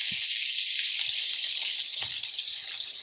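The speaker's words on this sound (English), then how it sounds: "check these because they're starting to sizzle" Steady high-pitched hiss of burgers sizzling in a hot frying pan, with a few soft low thumps and clicks underneath.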